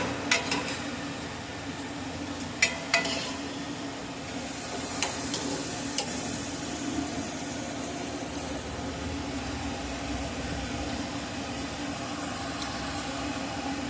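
A ribeye steak sizzles in butter over a flaring fire grill, making a continuous hissing roar broken by sharp pops and crackles early on, then settling into a steady, moderately loud sizzle with no voices.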